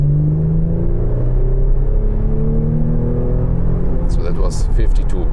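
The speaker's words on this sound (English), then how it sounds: "I'm starting from 50 kilometers now and just see how the RPMs turn up and listen to the sound" An Audi Sportback's engine pulls from 50 km/h, its rising drone and road rumble climbing steadily in pitch inside the cabin, with a brief higher noise near the end.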